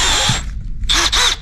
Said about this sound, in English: put the electric drill like that and just hold while it's spinning